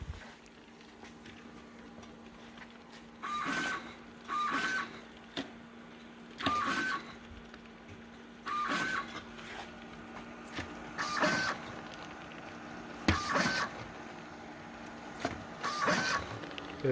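A LAB510 pouch labeling machine printing labels runs in repeated short mechanical bursts, each a whirring, buzzing feed cycle with brief pauses between, over a low steady hum, no voices.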